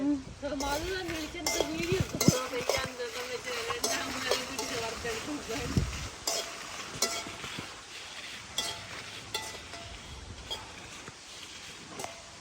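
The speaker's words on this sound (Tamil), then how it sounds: "செத்த மிளகாயை போட்டு நல்லா வறுத்தெடுப்போம்" Dried red chillies sizzling and being stirred in a hot pan in a home kitchen, with a spoon scraping and clinking against the metal. The frying is busiest early on and thins to scattered scrapes, with people talking over it.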